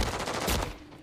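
Rapid automatic gunfire in Call of Duty Modern Warfare, a dense, loud burst of closely spaced shots that fades quickly after about a second.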